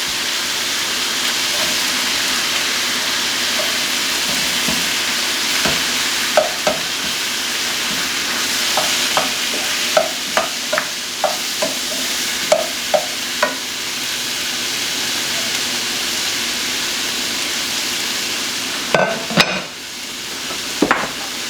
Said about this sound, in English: I'm gonna put some garlic in here, and then I'm gonna add all the sausage